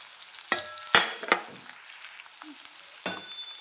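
Onion dropped into hot oil with spices, a soft steady sizzle near the pan broken by several sharp scrapes and clinks of stirring.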